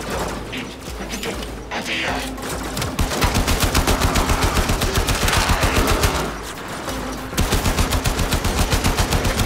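Rapid pistol gunfire from the video game Warframe, loud repeated bursts of fast shots with mechanical clatter between them, firing almost continuously with a brief pause near the middle.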